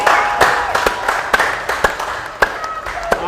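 Noisy crowd at a high school football game against South Creek, a dense continuous roar and murmur with scattered sharp claps and bangs popping out, fairly loud throughout.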